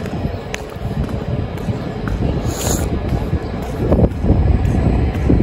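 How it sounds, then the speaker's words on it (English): Cold wind blowing hard outdoors, a loud, continuous rumbling buffet against the microphone that swells and surges, growing stronger toward the end. "Damn, y'all hear that wind?"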